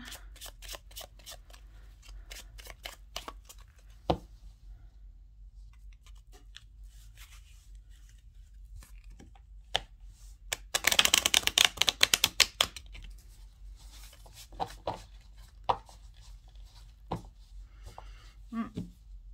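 Playing cards are shuffled and drawn for a card reading, with sparse soft taps and flicks, then a brief dense riffling burst, close and quiet.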